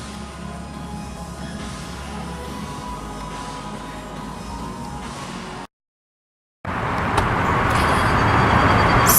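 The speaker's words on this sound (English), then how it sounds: "So we are at the gas station." Steady road traffic hum at a gas station, a continuous broadband wash of passing cars with a brief silent gap midway before louder, brighter traffic noise resumes.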